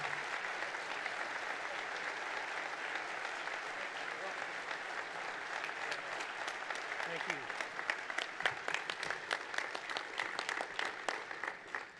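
An audience applauds to welcome United States Deputy Attorney General Rod Rosenstein, with sustained clapping that swells and grows more distinct toward the end and carries on without pause.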